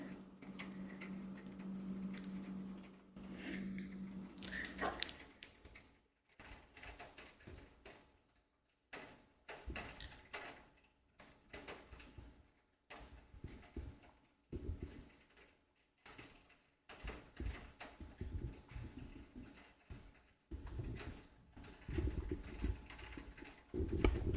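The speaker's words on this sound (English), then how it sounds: "I think it's raining." Steady light patter of rain with soft irregular ticking and tapping, close by, with no voices.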